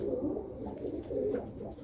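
Pigeons coo steadily in a low, rolling murmur of overlapping calls, close and continuous throughout with no talking.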